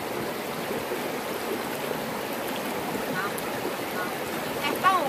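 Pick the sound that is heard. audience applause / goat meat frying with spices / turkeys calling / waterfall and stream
waterfall and stream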